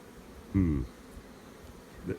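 Honey bees at a hive give a short loud buzz close by, with a fainter buzz near the end over a quiet background.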